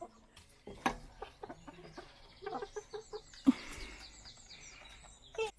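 Chickens in a small backyard flock cluck and squawk close by at feeding time, with scattered soft clucks and a couple of sharper calls over light rustling.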